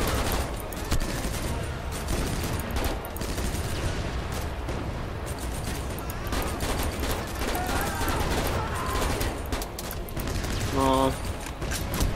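Bursts of video-game gunfire from the shooter Steel Fist crackle densely throughout, mixed with in-game effects and short exclamations from a player talking over it.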